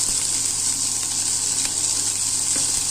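Ridge gourd and shrimp frying in oil in a pan for a Manipuri-style jhinga sabji, giving a steady, dense sizzle with no break and a few faint clinks, with no voices.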